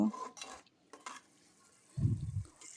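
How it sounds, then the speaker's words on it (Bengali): Chili, turmeric and cumin powders with salt are stir-fried in a little oil for a duck curry; a few short, quiet scrapes and clinks come from the utensil against the pan, then a brief low rumble. "দেখুন এখানে আমি মশলাটা কষিয়ে নেব"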